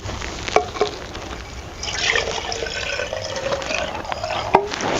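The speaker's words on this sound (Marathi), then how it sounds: "त्यामध्ये आपण घालते पाणी" Water is poured into a second cooking pot set aside for soaking chopped aubergine, a steady close-up liquid fill with a few small clinks against the vessel, and no talking.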